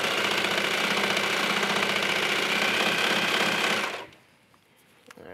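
A sewing machine stitches leggings fabric at a scant quarter-inch seam allowance, a steady, close, continuous whir for about four seconds before it stops and leaves near silence.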